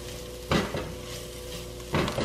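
Garlic cloves browning in a pot for a chicken and gnocchi pasta soup, a steady soft sizzle with two louder bursts of stirring or pan clatter.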